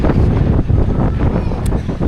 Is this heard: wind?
yes